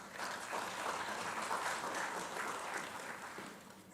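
Steady audience applause fills a parliamentary session hall as the chairperson of CPA International is introduced, a moderately loud, dense wash of clapping that holds evenly for about four seconds and then eases slightly.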